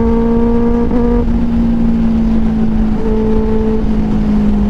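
Motorcycles of about 150-200 cc on a Sunday group ride roar along with a steady, loud engine drone whose pitch shifts slightly as they race past, with no talking.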